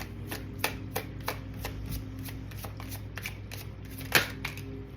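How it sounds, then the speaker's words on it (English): Playing cards being shuffled, a series of crisp riffling snaps repeating at a steady pace over a low background hum. "I'm gonna keep shuffling."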